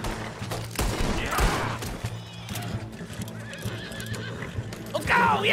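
A horse in Red Dead Redemption 2 whinnies and gallops with fast clip-clop hoofbeats during a gunfight, with bursts of gunfire nearby and voices mixed in.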